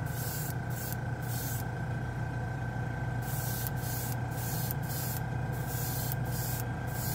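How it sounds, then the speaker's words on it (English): Airbrush compressor running steadily while black chrome paint is sprayed, a constant close hum with a hissing spray that cuts in and out in short bursts. "There goes the compressor."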